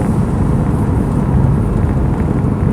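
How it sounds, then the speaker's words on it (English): Engine of a Mercedes C63 AMG while driving on bumpy Ontario roads, a loud, steady low rumble with road roar beneath it, continuous throughout. "That engine noise is just beautiful."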